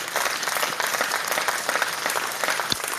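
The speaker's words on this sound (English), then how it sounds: "I think Dr. Ngozi, he for deserves a hand of applause" Steady audience applause for a chief of staff at a debate event, many hands clapping continuously at moderate loudness throughout, with a dense crackling texture and no break.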